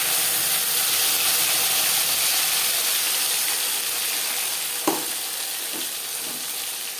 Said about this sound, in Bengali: পাঁচফোড়ন ভেজে নেওয়ার পর দিয়ে দেবো এক চামচ আদা বাটা কাঁচা লঙ্কা বাটা